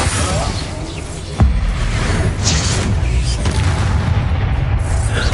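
A Confringo fire spell explodes in the video game Hogwarts Legacy: a sudden loud boom, then a rumbling, crackling tail that fills the rest of the moment.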